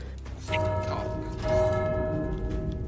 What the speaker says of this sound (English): You rang the bell.